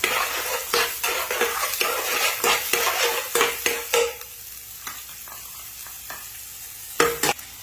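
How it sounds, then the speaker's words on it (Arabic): Onions frying in oil in a hot pan, sizzling steadily while a utensil scrapes and clatters against the pan in repeated stirring strokes, busiest early and sparser later. "في طاوة ساخنة بنزل البصل والزيت، ونحرك البصل قليل"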